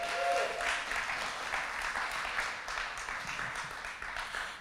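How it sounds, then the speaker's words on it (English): Steady applause from an audience, many hands clapping together in a dense, sustained wash that slowly tapers. "Give him another round of applause"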